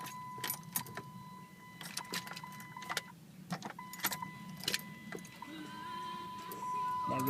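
Keys jangle and click in the ignition of a 2008 Dodge Charger that won't crank, with a steady warning chime and faint cabin hum but no engine starting.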